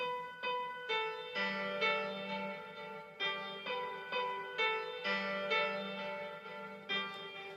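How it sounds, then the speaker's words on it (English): A third piano part plays a slow repeated sequence of clear, ringing chords and single notes, each struck and left to decay, steady and close with no talk. "Now the third piano part that I put in here"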